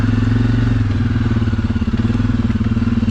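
A Suzuki KingQuad ATV engine revs hard and steadily in the rain, a loud close droning rumble with pulsing low throb and faint clatter throughout, no voices.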